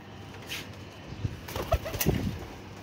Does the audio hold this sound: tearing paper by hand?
no